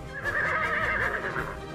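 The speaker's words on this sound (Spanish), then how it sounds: "el caballo más rápido de la historia se llamaba Secretariat" A horse whinnies in one sustained, loud, wavering neigh lasting nearly two seconds, close and alone with no talk over it.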